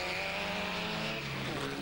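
Volkspares Formula Vee race cars lapping in a 1991 practice session, a distant engine drone that swells and fades as cars pass, with a faint tire squeal.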